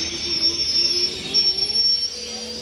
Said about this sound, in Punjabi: ਲਓ ਜੀ, ਆਪਣੀ ਟ੍ਰੇਨ ਆ ਚੁੱਕੀ ਆ